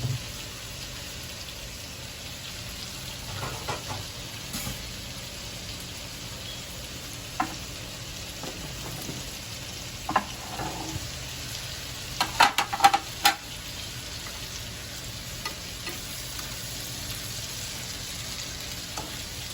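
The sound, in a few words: food sautéing in a pan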